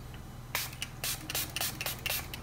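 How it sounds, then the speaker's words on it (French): Milani Make It Last setting spray in mango and coconut scent, misted onto a face in several short, close hissing bursts with brief pauses between them. "On a pour le setting spray, je vais utiliser le Milani Fruit Fetish Make It Last"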